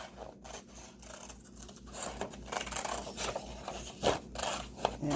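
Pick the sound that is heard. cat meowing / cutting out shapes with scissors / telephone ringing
cutting out shapes with scissors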